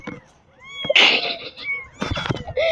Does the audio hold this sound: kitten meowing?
yes